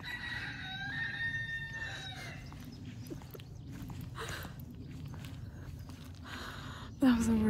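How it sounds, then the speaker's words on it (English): Roosters crow in long strained calls at the start, then scattered clucking and rustling follow with a voice speaking briefly, outdoors in rural France. "Hello, the roosters."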